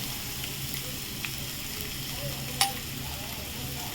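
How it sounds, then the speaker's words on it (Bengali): Chopped onion and ginger fry in a pan while being stirred, a steady soft sizzle with one sharp utensil clink near the end. "এটা একটু লাল লাল করে ভাজতে হবে"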